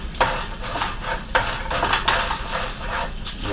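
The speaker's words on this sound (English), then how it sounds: "I got some bacon cooking here slowly" Bacon cooking slowly in a pan in a cabin on a bitter cold morning, a close, continuous crackling sizzle with occasional louder pops and faint utensil clinks, no talking.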